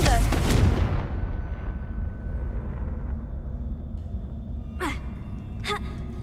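Confringo explosive spell cast in the Hogwarts Legacy video game, a loud blast at the start that rumbles and fades into a low drone, followed by two short swishing sounds later.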